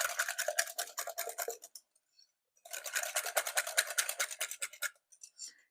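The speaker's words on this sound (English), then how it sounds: "just to kind of incorporate those eggs a little better. Just whisk them all together." A whisk beats eggs into a pumpkin, applesauce and peanut butter dog cake batter, two bursts of quick rhythmic clicking and scraping against the bowl separated by a short pause, close and fairly faint.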